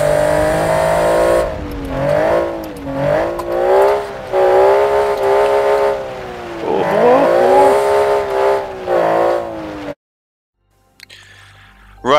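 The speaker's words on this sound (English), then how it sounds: "Right, so that's my Group B rally car." A Group B rally car in a racing video game drives hard, its engine rising and dropping in pitch through repeated revs and gear changes, loud and close, before cutting abruptly to near silence.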